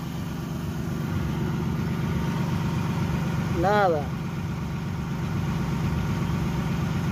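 A car's six-cylinder engine idles steadily and smoothly right after a new distributor has been installed, a low constant hum close by with a brief higher whine midway.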